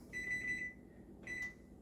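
Kitchen timer set while tea steeps, giving two electronic beeps: a longer tone followed by a shorter one after a brief pause, clear and close in a quiet room.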